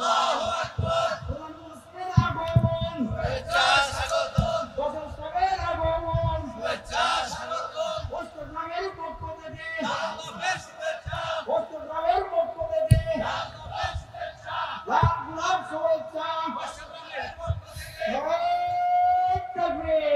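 Bengali religious sermon gathering where a crowd shouts slogans in unison, loud bursts of massed voices rising and falling in repeated waves, with a leader's voice calling out between them.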